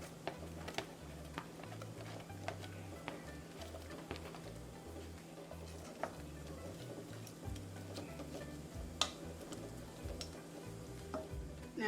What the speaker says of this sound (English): As my butter starts to melt, I'm going to add in my onion.